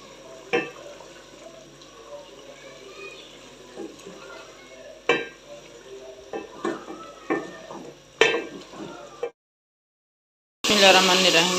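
Chunks of partly frozen meat frying in a pan, with repeated scraping stirs and knocks over a low sizzle, a voice talking intermittently, then a short silence and a louder burst of sizzling at the end.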